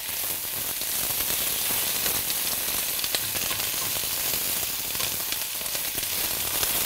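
Onions sizzling in hot oil infused with spices, a steady bright crackling fry with scattered pops, continuous and close.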